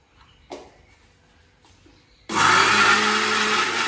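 An electric mixer grinder starts up and roars steadily while grinding roasted onion, garlic, sesame and coconut into paste, loud and close after a couple of faint clicks and handling knocks.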